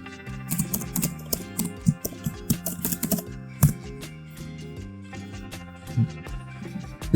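Computer keyboard being typed on while an application name is entered: quick irregular clacks and taps, close and fairly loud, over steady musical background tones.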